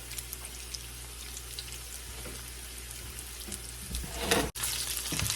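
Chicken pieces for sweet and sour chicken frying in oil, a steady close sizzle and crackle that swells briefly near the end as the food is stirred, with no talking.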